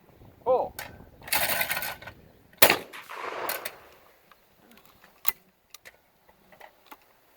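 Shotgun shots at clay targets outdoors, an economy model, firing sharp nearby blasts with a short gap between them, followed by fainter clicks and mechanical handling sounds of reloading.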